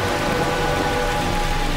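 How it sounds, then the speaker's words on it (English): Rain pours over the Andes mountains as a dense, steady hiss of drops on surfaces, loud and unbroken throughout with no voices. "As the clouds rise, they cool, releasing their water as rain and as snow."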